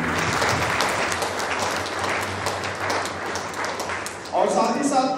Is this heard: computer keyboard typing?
no